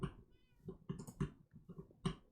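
Several short cat meows from a Minecraft cat, spaced irregularly across a couple of seconds at moderate level, with no talking over them.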